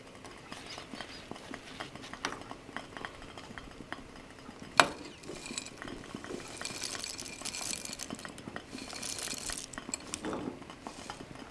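Noodles and nuts being stirred into melted butterscotch in a bowl, with scraping, clinking utensil strokes, one sharp knock, and soft sticky churning that builds toward the end.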